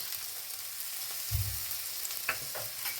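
Onion sautéed in a pan for a vegetable curry gives off a steady frying hiss, punctuated by a low thump and a few light spatula scrapes close by.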